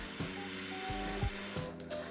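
Steady hissing spray from an aerosol can, bright and close, with a few soft knocks underneath, then the spray cuts off near the end.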